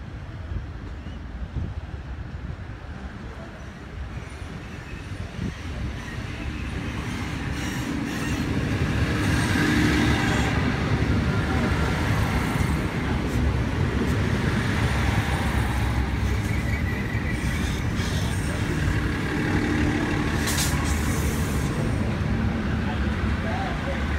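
The Armidale Moree Explorer diesel train pulls into Wyong Platform 3, a broad rumbling roar that builds from moderate to loud and holds steady, with rail clatter and a voice talking over it.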